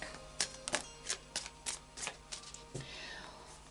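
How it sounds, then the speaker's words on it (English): A Wildwood tarot card deck being shuffled, with a series of soft, crisp card snaps and riffles in an irregular rhythm, heard close and quiet in a still room. "So I'll just do a final shuffle then of the Nature Wildwood tarot deck"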